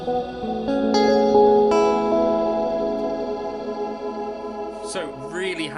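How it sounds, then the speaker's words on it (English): A Line 6 DL4 pedal runs an electric guitar through delay into reverb, sounding held chords with echoing repeats that wash out into a long reverberant tail, followed by a few brief plucked notes near the end. "which would be a delay into the reverb"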